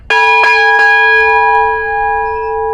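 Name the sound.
ship's bell struck twice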